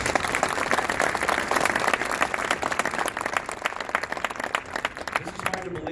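A crowd at a Cardinals Care grant presentation ceremony in St. Louis claps for donors, with dense, sustained applause that holds steady for several seconds before thinning slightly.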